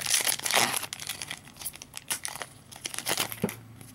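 Crinkly foil wrapper of a Pokemon XY Primal Clash booster pack being torn and crumpled open, a close run of sharp rips and rustling bursts with brief pauses, no talking.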